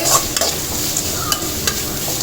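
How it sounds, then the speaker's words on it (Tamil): Onions sauté in oil left over from frying potatoes, a loud, close sizzle and hiss with a few sharp stirring clicks over about two seconds. "இந்த உருளைக்கிழங்கு பொறிச்ச எண்ணெயை வந்து வேஸ்ட் பண்ண வேண்டாம் நீங்கள் இப்படியே இதில் வதக்கி விட்டுடலாம் ஊற்றி வெங்காயம் வந்து நல்லா வதங்கட்டும்"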